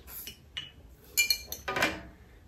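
Hilsa fish being mixed by hand with salt and mustard oil in a bowl gives a few scattered clinks and scrapes of metal against the dish, soft and close, with no talk.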